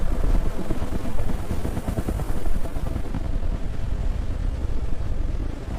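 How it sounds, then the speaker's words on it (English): Loud, continuous rotor chop and engine roar of a helicopter, steady and close, with a rough, buffeting wind-like texture. "Helicopters inbound. Prepare for landing."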